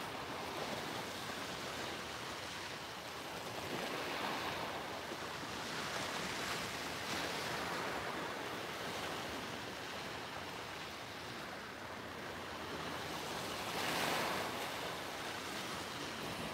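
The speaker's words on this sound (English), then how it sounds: "soak in the sounds of these gorgeous waves" Continuous ocean surf rolls and breaks onto the shore, a broad steady wash with a slightly louder swell near the end and some wind.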